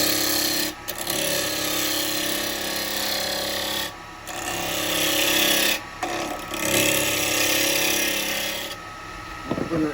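A yew wood bowl spins on a lathe while a tool cuts it, giving a close, rasping scrape in long passes with brief pauses between them and no talking.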